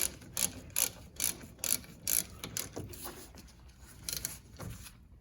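A 14 mm ratchet clicks in quick bursts of several strokes, pausing between them, while tightening a brake caliper bolt on a Ford Focus front wheel during a brake pad change, close and clear.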